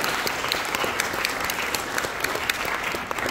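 A church congregation applauds during a United Church of Christ service after a choir moment, steady dense clapping filling the room at moderate loudness, continuous with no break.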